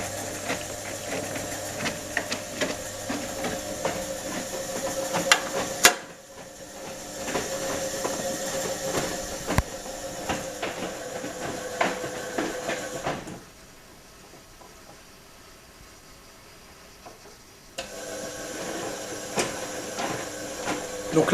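A Brandt washing machine running with its heating on, a steady mechanical hum with faint ticks and clicks, dropping to a quieter lull partway through before the running noise resumes.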